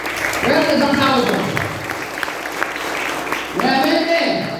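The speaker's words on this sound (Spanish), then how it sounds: "Fuertes aplausos." A community crowd in San José Patriarca Xotxlaq breaks into loud, dense clapping to welcome Reverend Timoteo Alvarado, with voices calling out and cheering over the sustained applause.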